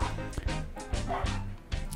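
Several dogs bark in short, regular bursts a little way off in a home setting, with only faint speech.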